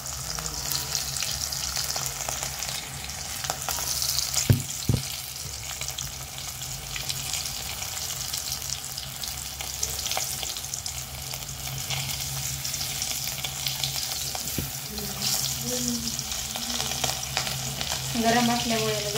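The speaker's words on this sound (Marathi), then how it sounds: "हे तेल खराब होणार नाही आणि फिश पण चांगले तळतील" Fish pieces coated in besan (gram flour) frying in a shallow layer of hot oil give a steady, dense sizzle and crackle throughout, with a couple of sharp taps and occasional bubbling bursts.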